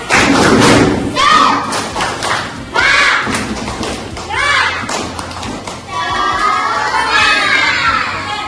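Schoolchildren in a multigrade classroom chant and clap in rhythm, loud and close, with bursts of excited shouting voices over the clapping.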